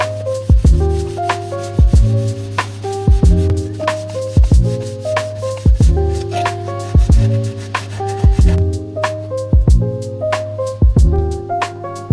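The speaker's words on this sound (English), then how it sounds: "So now we're going to sand out this stone chip material so that we can blend in the new stone chip" Sanding away stone chip coating on a rusty BMW E30 body, heard as loud, close, rhythmic rubbing strokes repeating about every second over a steady tonal hum from nearby music.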